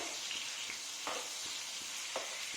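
Tomatoes frying in a pan for a vegetarian winter chhana and vegetable dish, a faint steady sizzle with a few soft stirring scrapes and no talking.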